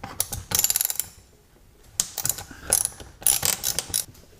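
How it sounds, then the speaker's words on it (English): A ratchet spins T25 Torx screws out of a car's plastic under tray, giving bursts of rapid clicking in three separate runs with short pauses between them, close and fairly loud with no talking. "to remove it you need T25 Torx bits, so I'll remove them"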